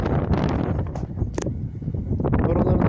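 Wind gusts in the Artvin mountains blow straight into the microphone, producing a loud, rumbling buffeting that swells and fades across the short moment.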